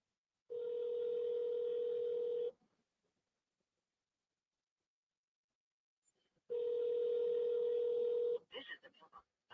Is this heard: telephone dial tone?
yes